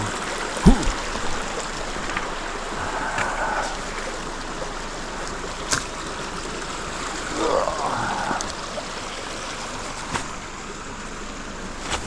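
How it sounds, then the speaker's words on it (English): A swollen mountain creek on a forest hike from Turner Hollow to Lewis Prong rushes steadily and close by, with a few faint knocks and splashes over the running water and no talk. "The creek has grown substantially"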